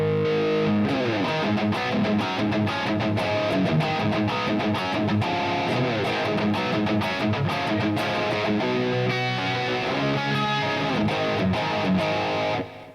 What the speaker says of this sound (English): we're going to pop on the distortion pedal